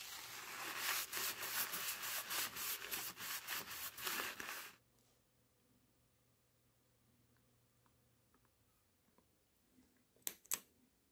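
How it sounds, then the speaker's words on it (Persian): Copper surface of a PCB being sanded by hand with 1000 grit sandpaper, making close, steady rhythmic rubbing strokes for about four seconds. Quiet follows, with a few faint clicks near the end. "میام اول روی مس رو با سنباده 1000 سنباده میزنم"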